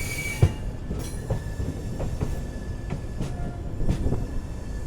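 A diesel-hauled passenger train runs near Rameshwaram on the Pamban sea bridge route, a continuous low rumble broken by regular sharp clacks of wheels over rail joints, heard from on board with a faint tonal whine.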